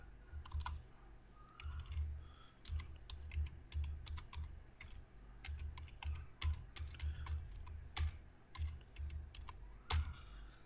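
Continuous fast typing on a computer keyboard while entering a website URL, with crisp close key clicks in uneven bursts and no other sound.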